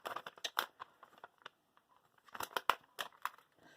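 Slices of cheese are ripped off by hand for a grilled cheese sandwich, giving short, soft tearing and crinkling sounds in scattered quick bursts, close and quiet.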